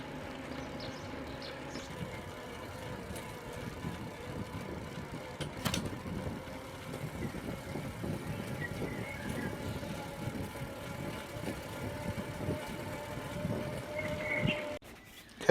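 A DIY mountain bike converted to a cheap eBike, riding on motor power alone around a one-mile circuit, giving a steady close rolling whir and motor hum with faint rattles, plus a brief louder knock near the start and a rise at the end.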